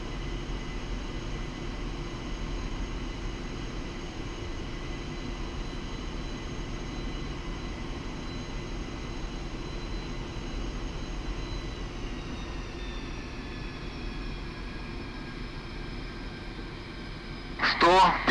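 A Su-25T attack jet rolls down the runway and lifts off in the flight simulator DCS World, a steady loud engine roar with a rising whine and talk over it, ending in a brief burst.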